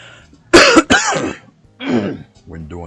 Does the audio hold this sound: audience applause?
no